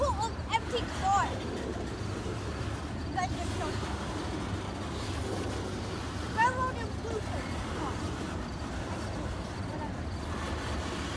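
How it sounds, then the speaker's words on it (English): A slow CSX freight train hauling steel cars rumbles past steadily, with faint wheel squeals and clanks over a constant low drone and occasional voices nearby. "This will go down possibly as the slowest CXS train we have ever filmed."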